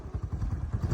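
A motorcycle engine thumps in a fast, even pulse close by as the bike is ridden, steady and fairly loud with no voices over it.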